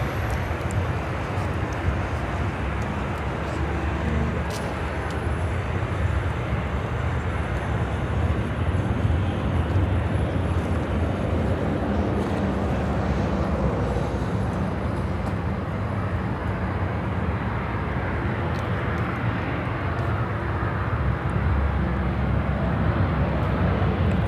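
An airliner takes off at Chicago O'Hare Airport with a continuous, loud, broadband jet engine roar that holds steady throughout, heard from a distance with no voices.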